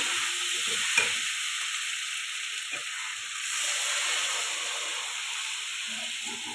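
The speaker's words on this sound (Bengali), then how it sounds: "এবার দিয়ে দেবো জিরের গুঁড়ো, দিয়ে একটু নেড়ে চেড়ে জল দিয়ে দেবো" A potato, cauliflower, carrot, pea and prawn curry is stirred in a pan after cumin powder goes in, giving a loud steady hiss and sizzle with a few spoon knocks and a brief surge of steamy intensity midway; no speech.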